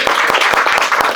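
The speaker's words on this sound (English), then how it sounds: "please, a big applause, please." An audience claps at a gathering. The clapping is brief and fairly loud, with distinct rhythmic claps over a general patter.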